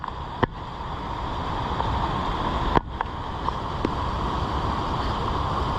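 Large waterfall at Chasm Falls in Tasmania, a steady broadband roar of falling water with a few brief knocks from handling nearby.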